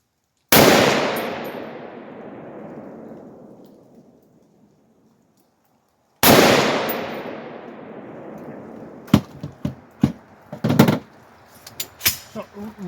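A Palmetto AR-10 rifle fitted with a Sprinco orange extra power buffer spring fires two loud, close shots a few seconds apart, each followed by a long rolling echo, with sharper clattering knocks after the second.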